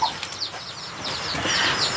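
Chickens clucking and squawking close by in a rural yard during a corn harvest, short excited calls over faint rustling and wing movement.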